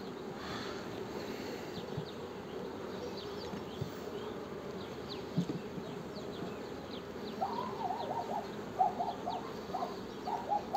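Honeybees hum in a dense, continuous drone at an apiary hive with young single-frame nucleus colonies, few bees and much brood, with occasional louder passes of individual bees close by and faint bird calls in the background.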